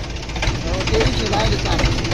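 A diesel tractor engine idles with a steady, knocking rumble close by, people talking over it, at an onion market in Pimpalgaon.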